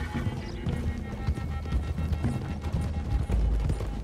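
Horses gallop in the video game Red Dead Redemption 2, hooves pounding in quick clip-clop rhythms with a whinny, heavy low thuds and rumbling beneath, loud and close throughout.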